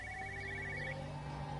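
A telephone rings steadily in a quiet setting in the Everybody's Gone to the Rapture game, a faint repeating electronic bell tone with a low hum underneath.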